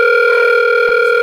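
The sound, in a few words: phone ringing with incoming call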